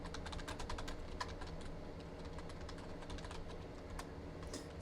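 Fingers tap quickly on a computer keyboard while data is entered, a dense run of close, crisp key clicks at an uneven pace without pause.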